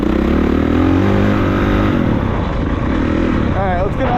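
A 2023 Honda CRF450RWE Works Edition race dirt bike engine running loud and close with a steady throaty drone and slight shifts in pitch.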